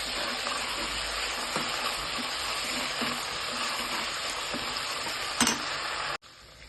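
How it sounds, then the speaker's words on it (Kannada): Fenugreek leaves frying in a hot pan give a steady, close sizzle with occasional stirring knocks, running continuously before stopping abruptly near the end. "ಮೆಂತ್ಯ ಸೊಪ್ಪು ಹಾಕಿರೋದ್ರಿಂದ 1-2 ನಿಮಿಷ ಹುರ್ಕೊಳ್ಳೋಣ."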